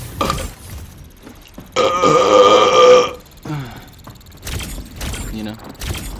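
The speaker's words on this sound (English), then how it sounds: "Yeah, I could burp on command." A person burps on command during a livestreamed game, one long, loud, drawn-out belch in the middle, with voices talking before and after.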